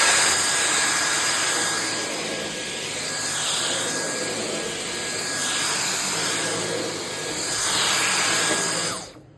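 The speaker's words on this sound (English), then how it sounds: "it does sound like an actual upright vacuum on boost" Dyson V10 Animal cordless stick vacuum running on boost mode, a loud, steady high-pitched whine with roaring airflow that swells slightly as it is pushed, then cuts off at the end.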